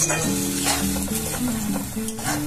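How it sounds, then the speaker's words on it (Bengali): Spice paste for potol curry sautés in a pan, loud close sizzling mixed with stirring scrapes, over a faint steady tonal hum in the background. "সব মশলা আমার দেওয়া হয়ে গেছে, এবার এটাকে আমি কষিয়ে নেবো ঠিক করে।"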